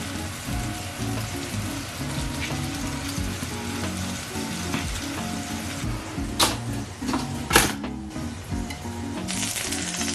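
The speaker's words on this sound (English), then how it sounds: "Whilst those are sizzling away in there, I'm just going to turn the heat down a little bit" Eggs or muffin fillings sizzle steadily in a frying pan while a McMuffin is being prepared, a continuous crackle with a few sharper clicks and pops near the end, with no voices.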